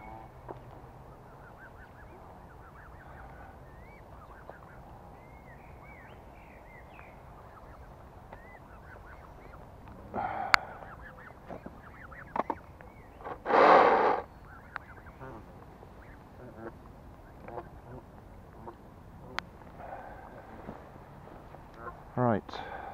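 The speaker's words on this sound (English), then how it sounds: "Clear off ducks, got no food for you." Ducks and geese quack and honk near a small boat on the water, mostly faint and scattered, with one loud close burst of honking in the middle and a few later calls.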